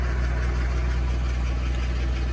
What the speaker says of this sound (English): I think the power steering pump is what's whining on this thing.